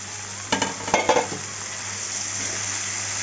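Vegetables and peas fry in a pan with a faint steady sizzle, broken early by a short cluster of stirring clatters and scrapes from a utensil against the pan, then a quieter hiss.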